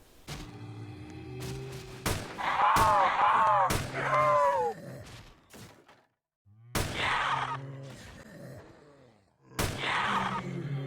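An AKS-74U submachine gun in Roblox Project Lazarus fires a handful of sharp, separate cracks amid bursts of groaning, voice-like noise, loud and close with short gaps between.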